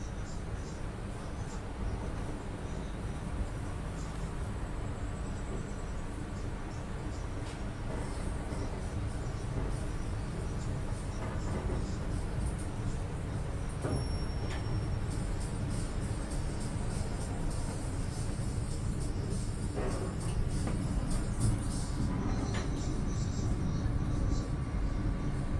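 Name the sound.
Mutiara Timur passenger train departing Probolinggo station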